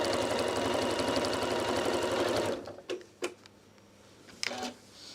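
A Janome Horizon Memory Craft 9480 sewing machine stitches a tiny zigzag, a loud rapid mechanical whirr for about two and a half seconds that stops abruptly, followed by a few quiet clicks and handling knocks.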